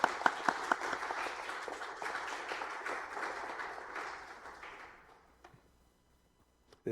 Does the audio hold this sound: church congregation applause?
yes